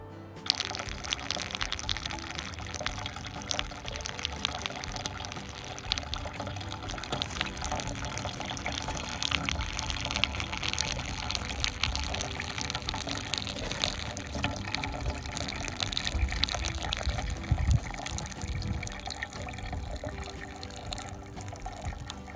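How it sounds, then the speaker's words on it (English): Hot maple syrup drains steadily from an evaporator pan through an opened ball valve into a collection bucket, making a continuous close gushing pour with no talking. "we open up the ball valve and start draining the pan into the collection bucket"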